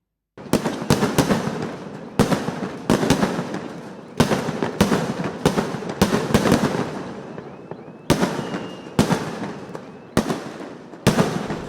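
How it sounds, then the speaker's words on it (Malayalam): Sample fireworks display for the Thrissur Pooram festival in Kerala, a rapid series of loud, sharp booming blasts in quick bursts, each followed by a rumbling decay, with almost no voices. "കാഴ്ചക്കാരെ ആവേശ കൊടുമുടിയിൽ ആറാടിക്കുന്നതായിരുന്നു തൃശൂർ പൂരത്തിന്റെ സാമ്പിൾ വെടിക്കെട്ട്."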